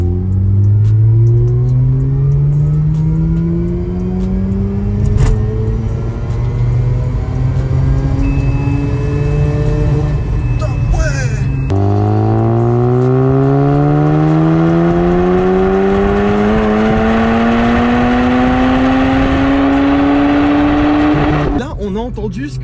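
A Mazda RX8's rotary engine revs hard while driving, climbing steeply toward about 9,500 rpm, then dropping briefly on a gear change before rising again in a second long, loud climb that cuts off near the end.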